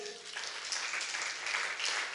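Congregation applauding in a church during a sermon, a dense steady wash of clapping that swells after a quieter start and holds for a couple of seconds.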